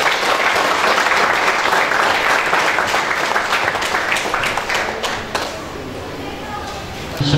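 A crowd claps loudly and continuously at an inauguration ceremony, a dense wash of applause that eases slightly toward the end, with voices mixed in.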